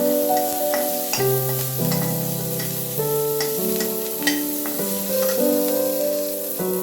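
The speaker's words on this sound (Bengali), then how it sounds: "ফোড়নের জন্য আমি তেল দিয়ে দিলাম। পেঁয়াজ একটু ভেজে নিলাম।" Steady sizzle of onions frying in hot oil, a continuous crackling hiss running beneath melodic background music.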